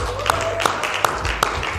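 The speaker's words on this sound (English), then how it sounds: "Give yourself a round of applause" At a brand breakfast event, an audience claps in a round of applause, with a few distinct sharp claps standing out over murmuring voices and a steady spread of hands nearby.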